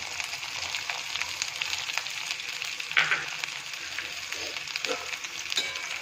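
Finely chopped onion sizzles in hot oil with roasted cumin, a steady close hiss with a few soft stirring taps, and no talking.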